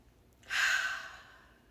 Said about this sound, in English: So take a deep breath with me, pause